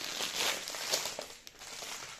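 Kinder Easter egg being unwrapped, its foil wrapper crinkling and crackling in short irregular bursts, close and fairly quiet, with no talk.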